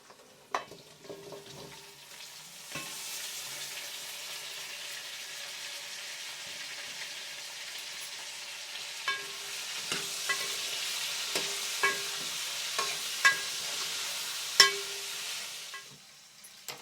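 Green chillies and vegetable pieces fry and get stirred in a pan for Telangana-style pappucharu, a steady soft sizzle with scattered scraping clinks of the spoon throughout.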